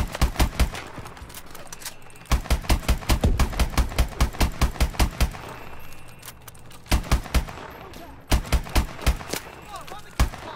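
Weapons firing in the Call of Duty Advanced Warfare video game campaign, inside a nuclear reactor: rapid, evenly spaced shots in repeated loud bursts separated by short pauses, with game noise underneath.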